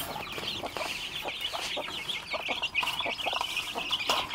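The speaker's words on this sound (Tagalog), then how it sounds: "Naduma-duma nga pipiyik." A group of chickens and chicks clucks and peeps constantly at close range on a farm, with a busy layer of high chirping over the softer clucks.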